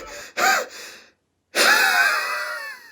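A person panting hard after walking three kilometers, loud close gasping breaths: one sharp inhale, a pause of near silence, then a long heavy wheezing breath.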